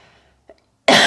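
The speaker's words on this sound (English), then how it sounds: "When you lean forward and cough" A single loud cough from a seated person leaning forward bursts out at the end, after near silence and a faint short breath or throat sound.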